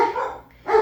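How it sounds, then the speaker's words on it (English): Dogs bark indoors in a few loud yapping bursts, with a brief pause between two clusters of barks, no talking over them. "we're going to have a barky day today"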